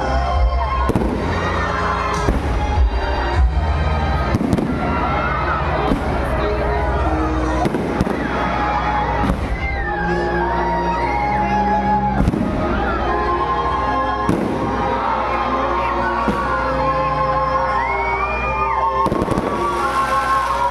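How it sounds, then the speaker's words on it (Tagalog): Fireworks crackle and boom continuously amid a noisy crowd at a plaza light-show opening in Bangued, Abra, loud and dense, with bursts and pops overlapping throughout. "fireworks"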